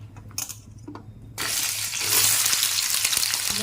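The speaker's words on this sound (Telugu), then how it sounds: "నూనె వేడెక్కిందండి ఇవి మన గుత్తులో పోసుకున్నాం కదా దొండకాయలు అవి ఇందులో వేసుకోవాలి" Ivy gourds (tindora) drop into hot oil and burst into a loud, steady sizzle that holds and builds, following a few quiet clinks and handling noises at the start.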